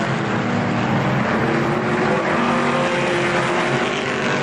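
Race cars roar steadily around the Kil-Kare Speedway oval in a 1998 short-track race, a dense, continuous engine drone from several cars at once with no break.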